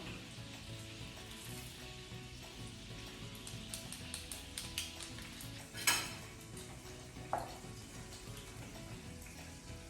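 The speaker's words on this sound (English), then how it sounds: "So in go the mushrooms, and we're going to give it a nice stir" Mushrooms fry in a pan with garlic, making a close, steady sizzle while a spoon stirs them, with a run of quick scraping clicks and a couple of sharp metallic clinks against the pan.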